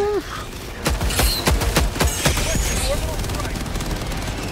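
Rapid bursts of gunfire from Helldivers 2 crack loudly in quick succession over a dense bed of battle noise, with voices talking over the shooting.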